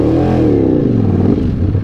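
Ducati Panigale V4S motorcycle engine revving under throttle with a rough, gravelly tone, loud and close, with a steady rising and falling drone and no talking.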